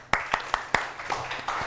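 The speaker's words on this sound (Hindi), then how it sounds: "तालियां।" Children in a classroom clap briefly and unevenly, a few distinct close claps spaced across under two seconds rather than sustained applause, with no talking.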